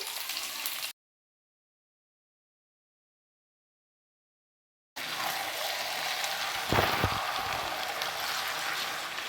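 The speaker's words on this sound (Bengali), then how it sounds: "টমেটোটাও হালকা করে ভেজে নিয়েছি, এবার আমি চিকেনটা দিয়ে দিচ্ছি।" Chicken goes into a pan of frying tomatoes, ginger and garlic for a chicken curry, giving a steady close sizzle with one dull thump, briefly before a long stretch of silence and then returning.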